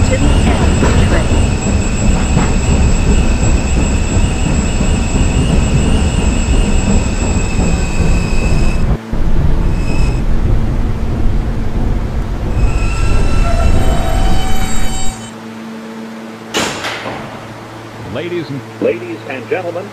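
A subway train on the R line at 86 St running on rails at night: a loud rumbling ride with squealing wheels and clacking, then braking to a stop and a quieter idle.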